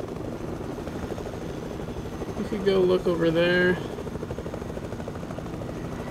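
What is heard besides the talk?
helicopter flying in the video game Fortnite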